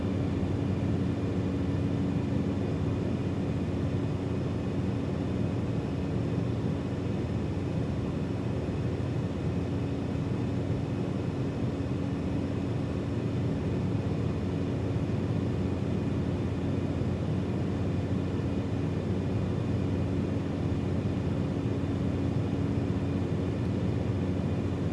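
Simulated aircraft in Microsoft Flight Simulator 2024 on final approach to land with full flaps, a steady broadband engine and airflow drone holding level throughout with a faint tonal hum, no voices.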